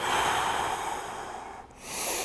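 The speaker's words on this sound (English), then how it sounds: "Sniff air in" A long, deep breath is drawn in sharply through the nose during a mobility class, close and loud, followed by a brief pause and another inhale.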